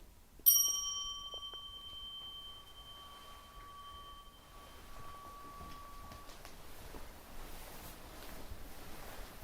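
A meditation bell is struck once during a Zen Buddhist talk, a clear ringing tone that sustains and slowly fades over several seconds into a quiet room with faint background hiss.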